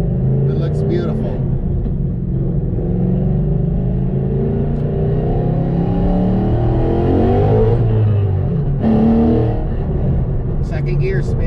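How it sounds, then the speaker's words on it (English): A car with an MT82 manual transmission accelerates hard in second gear with wheelspin, giving a loud, close, sustained engine roar and rumble that swells and fades over about eleven seconds. "Second gear spin."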